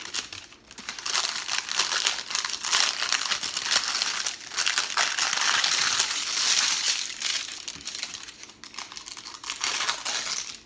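Parchment-style baking liner under a tray of banana-almond blondies is torn down the middle, giving close, continuous crinkling and ripping crackles over about ten seconds with no voices.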